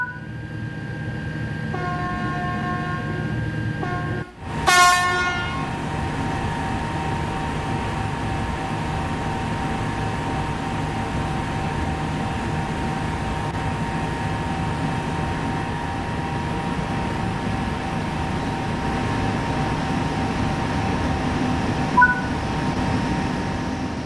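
A TGV Duplex Series 200 high-speed train on LGV Méditerranée in Train Sim World 3 pulls away from standstill: a brief sharp clank, then a steady electric hum and whine with faint tonal bells, no voices.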